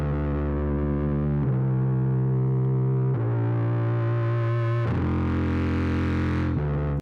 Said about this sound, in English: We've got a feedback piano, which sounds like a crazy low bass.